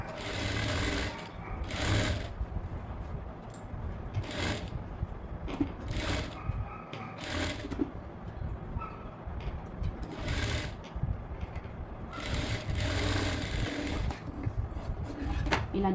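A sewing machine runs in steady bursts while stitching a high-neck blouse, its rapid mechanical chatter loud and close, stopping and restarting several times between short pauses.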